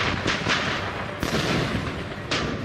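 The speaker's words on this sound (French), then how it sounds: "Embusquée, l'artillerie Viet Minh est invisible. Et le pilonnage d'une puissance inouïe." A 1954 Viet Minh artillery bombardment at Dien Bien Phu, presented as documentary war footage: several heavy blasts and booming impacts land in quick succession, each with a sharp crack over a rumbling, noisy background.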